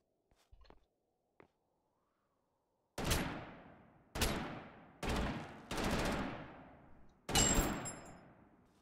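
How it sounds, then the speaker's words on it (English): An MG42 machine gun in Totally Accurate Battlegrounds fires five loud, close bursts, each a sharp onset with a ringing decay, separated by short gaps after two faint clicks. "MG42. So that has some crazy recoil on it."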